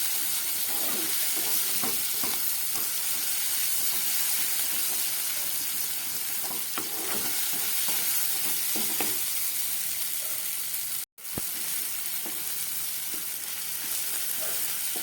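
Potatoes, onion stalks and rohu fish roe fry in a pan with a steady, dense sizzle, stirred now and then with scraping clinks, and a brief cut to silence near the end before the frying resumes.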